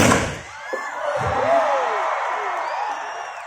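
A large crowd at a Karbi Anglong Day cultural night in Taralangso cheers and makes noise, a broad roar with rising whistles and whoops over it and a few thumps early on.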